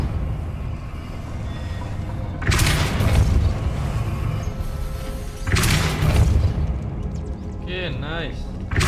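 Depulso spell cast in the Hogwarts Legacy video game: two heavy booming blasts a few seconds apart, loud and close, followed by a short bright magical shimmer, over a steady game background.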